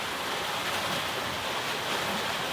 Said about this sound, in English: Mainsail and Genoa up, we just cracked off probably about 15 degrees off the wind, and we're doing close to 7.